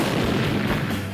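A cannon firing a pure ice cannonball gives a dense, loud, rumbling burst that fills the short moment with a heavy sustained roar.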